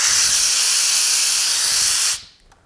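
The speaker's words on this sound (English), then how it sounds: "What this does is it makes your Eurosteam continuously steaming." A Eurosteam Next Generation 6199 steam iron gives off a loud, steady hiss of continuous steam, held for about two seconds before cutting off abruptly into near silence.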